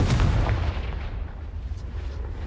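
A Confringo spell in the Hogwarts Legacy video game goes off as a loud, booming blast, with a sharp crack at the start and a rumbling tail that fades over a couple of seconds.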